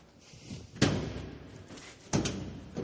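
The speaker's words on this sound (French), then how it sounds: "Vous allez ouvrir la porte." A door is being opened, giving two heavy thuds about a second apart over a quiet room, with no voices during the sounds.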